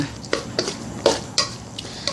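Chopped yardlong beans are tossed through a banana blossom fish cake mixture in a bowl. Soft scrapes and clinks repeat at a steady rhythm, close up and moderately quiet.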